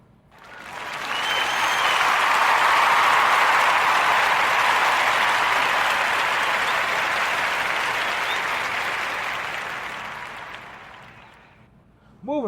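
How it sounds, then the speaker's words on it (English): A warm round of applause from a crowd, clapping swelling quickly into a dense, loud, sustained wash that slowly tapers off near the end. "Join me in giving this brother Malcolm X Bowser a warm narrative podcast round of applause"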